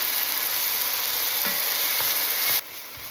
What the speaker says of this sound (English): Stir that around, it's nice and incorporated